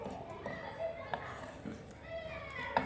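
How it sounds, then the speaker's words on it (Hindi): Children play and chatter faintly in the background at a home where a vinegar vegetable pickle is being made. Their distant, continuous noise includes small clatters and stays well in the background. "ये आपको बच्चों का शोर बैकग्राउंड में नज़र आ ही रहा है।"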